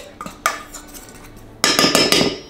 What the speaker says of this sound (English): And we just mix this around.